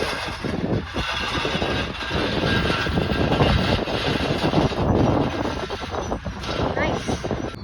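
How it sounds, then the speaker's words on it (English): A jet airliner touching down at Chicago O'Hare airport, heard as a steady, broad engine and reverse-thrust roar from moderate distance, with people talking over it. "Oh, that was kind of a firm landing."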